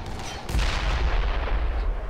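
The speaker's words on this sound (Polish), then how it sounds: "O, wybuch." An explosion in the zombie video game Dead Island lands as one sudden, loud boom, followed by a rolling low rumble that fades slowly across the following seconds.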